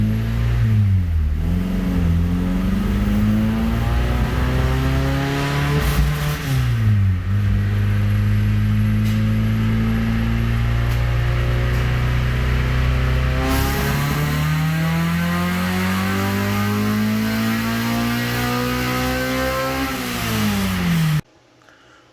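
A Honda Civic EK with an H22A engine revs hard through a third-gear dyno pull, a loud, steady rising howl that sweeps up twice with a brief dip between, then cuts off abruptly.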